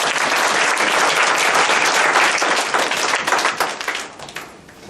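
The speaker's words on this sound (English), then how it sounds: "let's give another big round of applause" Audience applause at Barefoot Day following an address, a loud dense burst of many hands clapping that holds steady, then thins and fades toward the end.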